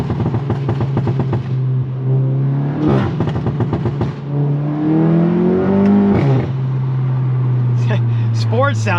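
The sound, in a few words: MK7 VW GTI exhaust popping in sport mode, MAP downpipe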